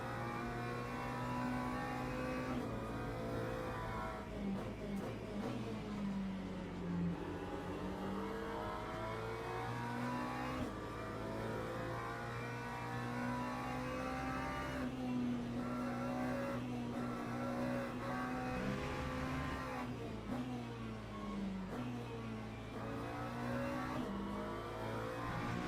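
Hypercar engines in the racing game Le Mans Ultimate, heard onboard as a loud, continuous engine drone with rising and falling revs through gear changes, steady throughout with no talking.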